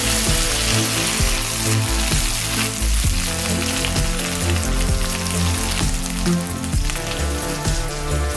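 Two sprigs of curry leaves crackle and sizzle in hot oil for cherupayar thoran, a dense, steady frying hiss with popping spatters that runs loud and unbroken throughout.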